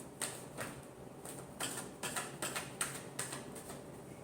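Tarot cards shuffled by hand in a quiet room, giving a series of about nine crisp, papery flicks and riffles at an irregular rhythm, close and fairly soft, with no voices.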